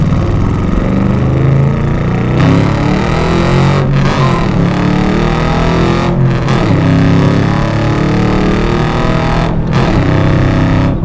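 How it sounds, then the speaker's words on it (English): A 1998 Chevrolet Camaro SS with a 5.7-liter LS V8 and six-speed manual pulls hard through the gears, its loud, steady exhaust roar broken by brief dips at each shift. "It's pulling hard. It has a great exhaust note to it."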